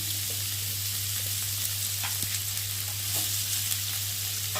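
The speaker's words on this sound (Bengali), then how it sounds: "দিয়ে একটু ভালো করে আলুগুলোকে ভেজে নিই" Potatoes fry in a pan for a fish curry, giving a steady, close sizzle. Faint stirring clicks break through it now and then, and no one speaks.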